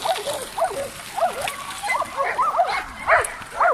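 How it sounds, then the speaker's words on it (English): Several dogs race along a beach, yelping and barking in rapid, overlapping bursts at moderate distance, mixed with splashing and some voices. "All these dogs racing on the beach."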